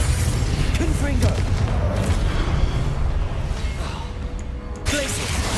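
A Confringo fire spell from Hogwarts Legacy bursts with a loud, booming explosion, followed by rumbling crackle and continuous game combat noise with dense low-end energy throughout.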